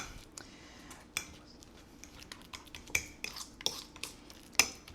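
Very soft, ripe bananas are mashed in a bowl, with a run of irregular sharp clicks and taps from a utensil striking the bowl over a quiet squishy background, close and fairly faint.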